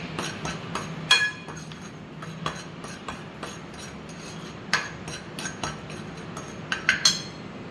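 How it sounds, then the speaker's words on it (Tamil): A spoon clinks and scrapes in a pan as salt, chili powder and spices are mixed for a taro root (arbi) fry, with scattered sharp metallic taps over a faint steady background and no talk. "மிளகாய்த்தூள் இப்போ இது எல்லாத்தையும் லைட்டாக இப்படி ஒரு மிக்ஸ் பண்ணி விட்டுக்கலாம்"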